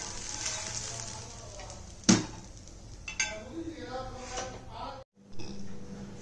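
Ragi and wheat dosa cooking on a pan, a soft continuous sizzle broken by a sharp clink of utensil against the pan and a few light scrapes, with someone speaking over it.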